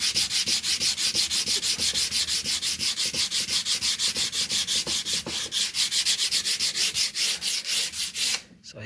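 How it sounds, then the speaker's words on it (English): Sandpaper rubs steadily across a painted art surface built up with stucco, pastels and marker, in fast, even back-and-forth strokes that continue loud and close for most of the stretch before stopping abruptly near the end. "so I start sanding."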